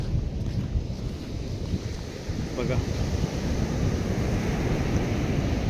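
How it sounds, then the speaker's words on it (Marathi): Wind and sea waves at the Konkan coast near Malvan, where a river meets the sea, make a constant rough roar with wind buffeting the microphone, while a person speaks a word briefly. "हा समुद्र, आणि हा समुद्र ज्या ठिकाणी फिरतोय त्याच ठिकाणी पुढे जाऊन नदी आहे"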